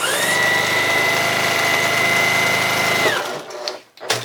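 A sewing machine runs steadily for about three seconds, stitching rag quilt squares together into a row, with a constant motor whine and rapid needle chatter before it stops and a few soft handling noises follow.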